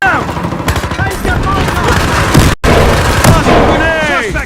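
Rapid automatic gunfire and heavy bursts from the police-versus-criminals shooter Battlefield Hardline, played in a multiplayer heist match with an MP5K, crackle loudly and continuously alongside a sharp blast, with shouted voices mixed underneath.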